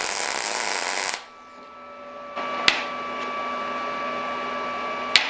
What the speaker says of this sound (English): we're gonna turn it upside down like this and try to weld it from the